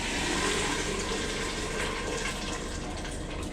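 Cold tap water runs steadily over blanched cauliflower in a kitchen, a continuous close splashing gush with no pauses.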